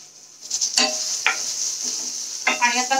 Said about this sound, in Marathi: आता कांदा भाजून रेडी होत आहे